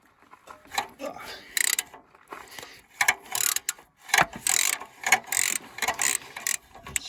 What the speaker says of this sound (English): Now we can start to take the nuts off the manifold.